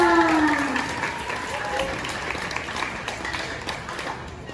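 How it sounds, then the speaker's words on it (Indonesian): Students at a school literacy Friday session applaud together, steady clapping from a group that starts loud and gradually thins, with a voice briefly audible at the start. "tepuk tangan buat kita semua"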